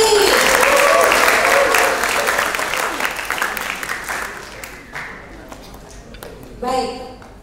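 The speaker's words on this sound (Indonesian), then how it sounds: "tepuk tangan untuk diri sendiri" A seminar audience on hypnosis communication applauds themselves, loud dense clapping that tapers off over several seconds, with a few voices and a short burst near the end.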